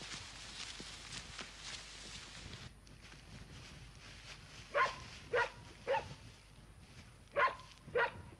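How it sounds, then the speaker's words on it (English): A dog barking outdoors in open hill country, five sharp barks at moderate distance in two short groups, over a background of wind. "We've found the dog!"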